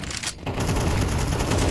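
Rapid gunfire in the game CS2 during a team match on a custom map playtest, a dense continuous burst of shots filling the clip after a brief lull, loud and close.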